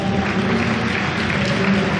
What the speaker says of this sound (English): Let's give a round of applause for EG,